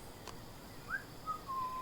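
A character whistles in the video game Book of Travels: a few short, faint, thin whistled notes over a quiet ambient background, one rising chirp followed by a couple of longer steady tones.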